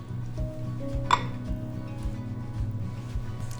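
Ceramic bowls and utensils clink softly as Korean oyster salad (gul muchim) is served into bowls in a home kitchen, with light repeated taps and knocks over a steady low hum.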